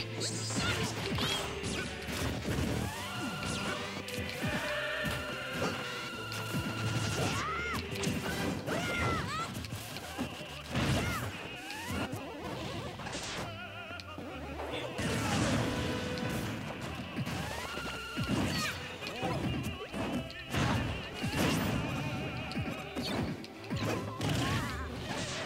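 Mega Man fighting and firing his shots in Super Smash Bros. for Wii U, a dense, continuous clatter of hits, smashes, whooshes and blasts with game music underneath, sustained and loud throughout.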